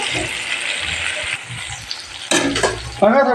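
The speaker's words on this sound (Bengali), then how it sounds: "আর এখানে আলুটা একটু হালকা ভেজে নেব" Potatoes lightly frying in a pan give a steady close hiss of sizzling that shifts into louder stirring and scraping clatter in the last second.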